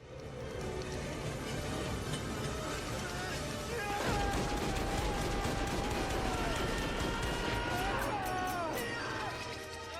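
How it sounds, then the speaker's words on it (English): A dense, chaotic scene from the 1987 film Raising Arizona with rapid gunfire mixed into shouting, sirens and commotion, loud and continuous for about ten seconds. "that many gunshots. So many gunshots."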